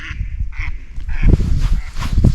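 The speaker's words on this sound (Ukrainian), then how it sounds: "он гусь полетів" Geese honk repeatedly overhead, several loud nasal calls in quick succession, with wind noise and rustling mixed beneath them.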